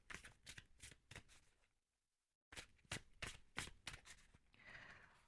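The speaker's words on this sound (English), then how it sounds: "Let's go ahead and pull some tarot for you guys," A deck of tarot cards is shuffled in quick riffling bursts close up, with a short silent pause between two rounds of shuffling.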